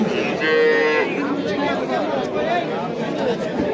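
Cow at a cattle market in Boʻka district, Tashkent region, lowing once in a drawn-out moo against a constant crowd murmur and chatter.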